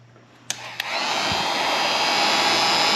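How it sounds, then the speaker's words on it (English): A heat gun switches on with a couple of clicks, then blows a loud steady whirring roar while heating glue on a fishing rod guide. "So we're gonna now take our heat gun and heat it up."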